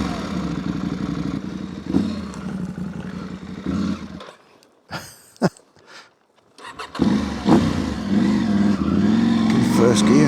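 A KTM 790 Adventure motorcycle engine on Yorkshire green lanes, loud and close, running and revving in steady bursts with a brief quieter gap midway before the engine roars back, with talk over parts of it.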